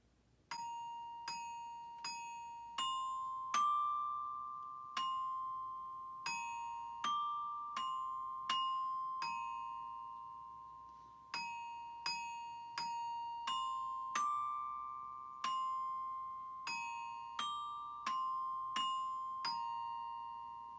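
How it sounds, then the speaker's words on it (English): Bright bell-like mallet strikes on orchestra bells ring out one after another in a steady, even rhythm, each tone sustaining and decaying, played alone with no voices. "So that's what it would sound like on the bells."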